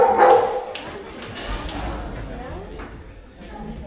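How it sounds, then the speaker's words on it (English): A dog at Caversham Wildlife Park in Perth barks in short bursts near the start, then quieter yips under background chatter and crowd noise as a billy is swung nearby. "when he was swinging the billy that Albert was barking"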